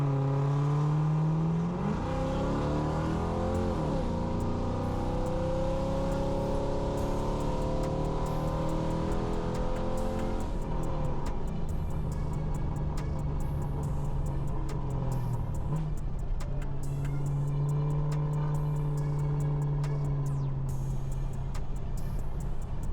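Automatic 2V car under hard acceleration from the driver's seat, engine rising in pitch through rising sweeps, dropping at each gear shift around 10 and 16 seconds, loud and continuous with no talk.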